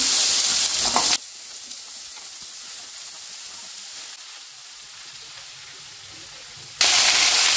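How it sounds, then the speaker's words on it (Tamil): Onion and okra hit a hot pan, starting with a loud sizzle, then a long quieter stretch of gentle frying, and ending in a sudden loud burst of sizzling. "வெங்காயம் சேர்த்துட்டு வெங்காயமும் வதக்கிக்கலாம். இந்த பக்கம் வந்து வெண்டைக்காய் சேர்த்துடலாம்."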